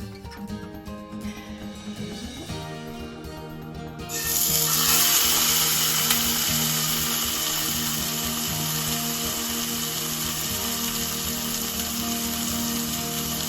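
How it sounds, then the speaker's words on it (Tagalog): Yellowtail fish frying in sesame oil, a loud steady sizzle that jumps up sharply after a few seconds and then holds as a dense hiss above a low kitchen hum. "So, medyo iprito muna natin ng konti ang isda."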